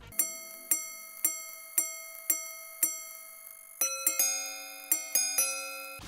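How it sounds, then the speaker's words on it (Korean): A delicate chiming melody of bright metallic tones from a mechanical wristwatch alarm, struck note by note in an even rhythm, then quicker clustered notes near the end. "기계식이었지만 알람의 선율 또한 아름다웠습니다"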